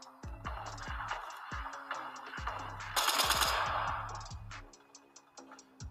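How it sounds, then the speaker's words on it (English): Rapid bursts of gunfire in Fortnite, fairly faint and distant, repeated clusters of sharp shots with a louder stretch in the middle, over a steady ticking background. "Why are you shooting the IO guards"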